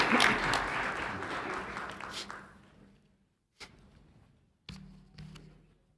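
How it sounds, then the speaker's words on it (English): Audience applause at a school board meeting in a hall, a full burst of clapping that tapers off over about three seconds, followed by a few isolated thumps and light bumps. "Let's give Telmar a round of applause"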